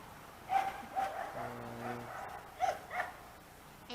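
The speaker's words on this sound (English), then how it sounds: "And Jasper's over there barking his head off." A Yorkie barks in a few sharp yips spaced over several seconds, fairly faint and somewhat distant, with a low steady hum underneath.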